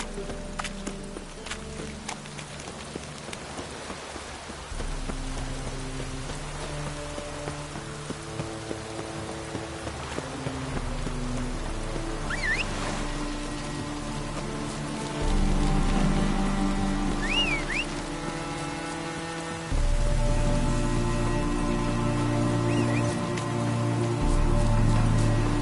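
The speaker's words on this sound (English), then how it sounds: "Looks like rain." Steady rain pattering across the world of The Witcher 3, a soft, continuous hiss layered under game music and ambient effects, holding at a moderate level throughout.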